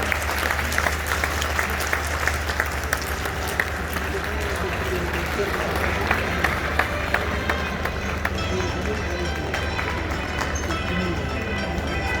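Audience at Khawaja Fareed University in Rahim Yar Khan applauds the Governor of Punjab with sustained loud clapping over a low hum, with faint voices mixed in beneath the clapping.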